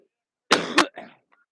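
A single close throat clear followed by a short cough and a faint trailing breath during a college baseball livestream broadcast, brief and isolated against near silence.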